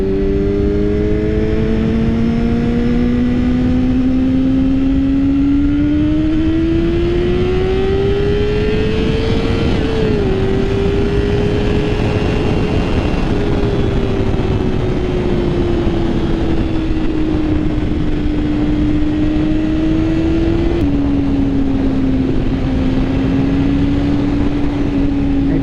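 A Yamaha R6 motorcycle engine drones steadily while riding in fall, a loud, close, continuous hum with gradual pitch shifts and a brief shift change partway, under constant wind rush.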